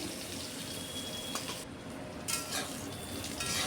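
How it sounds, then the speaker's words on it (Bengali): Brinjal slices sizzle softly in oil previously used for frying hilsa, a steady, faint crackling hiss with a few brief louder spits and no talking. "বেগুনগুলোকে এরকম লাল লাল করে মুচমুচে করে ভেজে নিচ্ছি।"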